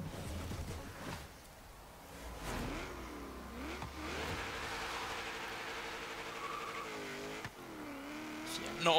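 1971 Chevrolet Vega GT engine revving and accelerating through gear changes in Forza Horizon 3 autocross, rising and falling engine tone with tyre squeal over it, and someone talking throughout.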